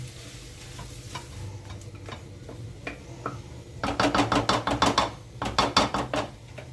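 Spatula scraping and stirring potato masala filling for masala dosa in a pan over a low flame, a quiet sizzle underneath, then a run of quick rhythmic scrapes followed by a second shorter burst.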